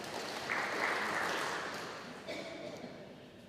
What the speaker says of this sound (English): A round of applause for Alan and Paul for me